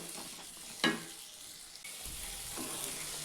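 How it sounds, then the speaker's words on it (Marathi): Potatoes with turmeric sautéing in a pan for pulao, a faint steady sizzle with one sharp spatula knock early on and soft stirring afterward. "आता ह्याला 1 मिनिटभर चांगलं परतून घेऊ आपण."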